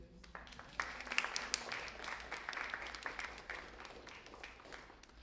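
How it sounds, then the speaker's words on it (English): Audience applause at an arts and research showcase event, a steady crowd clapping sustained for several seconds at moderate distance, with scattered sharper claps standing out from the dense wash. "A round of applause for Audrey, please."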